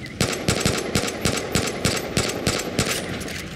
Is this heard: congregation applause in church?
no